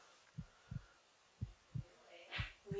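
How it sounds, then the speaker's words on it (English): Low, thumping booms like a heartbeat come during a paranormal investigation of a reportedly haunted house in Lowbanks, Ontario. About six soft, evenly spaced thuds sound faint and a little distant in a quiet room, with no talking. "What is that sound that sounds like a heartbeat?"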